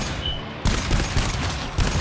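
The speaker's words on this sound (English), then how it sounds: "Motherfucking machine gun boys, damn." Sustained automatic machine gun fire rips through a fight in the game GTFO, loud and close, in several rapid bursts with short breaks between them.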